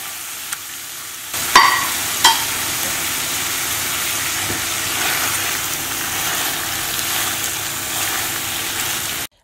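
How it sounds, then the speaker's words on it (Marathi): Fried pomfret pieces go into hot Goan cafreal masala in a pan, starting with a couple of sharp clatters followed by a steady, close sizzling hiss that continues without talk. "आता नुस्तें आमी फ्राय करून दवरलेले ते ह्या मसाल्यान घालूया"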